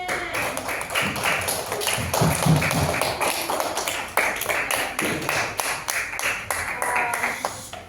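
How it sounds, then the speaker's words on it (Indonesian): A classroom gives a student a round of applause, with many hands clapping in a quick, uneven rhythm at close range, swelling and easing over several seconds; a voice briefly shows under the claps. "Beri aplaus dulu untuk temennya."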